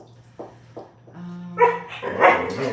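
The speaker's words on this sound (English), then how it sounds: "Somebody throw a stick to the dog. That's what she wants." A dog barks indoors in a bare room with no carpet, a few short woofs then louder, whiny barks building toward the end, wanting to play.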